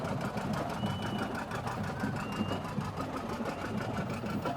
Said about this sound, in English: an antique restored 1958 John Deere 730 tractor, and listen to that